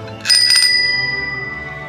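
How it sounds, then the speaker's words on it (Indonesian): A classic old-style ring bell on a Simplex Amsterdam neo men's bicycle gives a bright metallic trill, struck once and left ringing and fading, loud and close. "untuk bel menggunakan bel kring biasa, lawasan biasa. Ini seperti ini, kita bunyikan"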